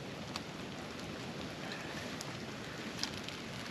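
Rain falls at a wild hammock camp on the Isle of Wight as a soft, constant hiss with occasional sharper drop taps, fairly faint and with no talk.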